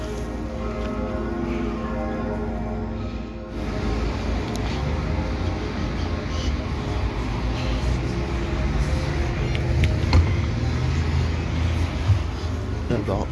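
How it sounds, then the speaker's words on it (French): A Bernmobil city bus runs through Bern, its engine and road rumble steady and close throughout, with a bell-like ring and general street noise mixed in. "Très beau bus aussi."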